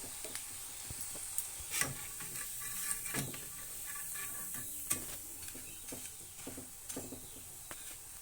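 Potato karapusa dough frying in hot oil, a steady soft sizzle with occasional scraping clicks as the pieces are turned in the pan.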